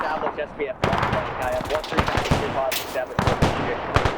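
Heavy gunfire during an airstrike in the video game Arma 3 rattles in rapid bursts with repeated crackling impacts, all under howling storm wind and faint game voices.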